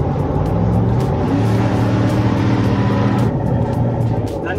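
A Ford Raptor pickup truck's engine drones loudly and continuously while driving, its steady low rumble shifting in pitch as it holds and changes gears.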